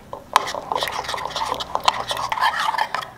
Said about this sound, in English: we're gonna go ahead and mix that all up to a good consistency